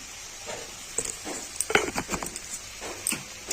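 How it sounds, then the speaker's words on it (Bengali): Spice paste of turmeric, chili and cumin powder being fried in oil while a utensil stirs it, giving a soft sizzle broken by scraping clinks and taps against the pan, close and fairly quiet. "এবার আমি মশলাটাকে ভালো করে কষিয়ে নেব"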